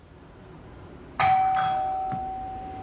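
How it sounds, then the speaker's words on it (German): A doorbell rings once, a bright two-tone chime that rings out and slowly fades over a quiet background. "Wenn man bis Tanners läutet und reinkommt"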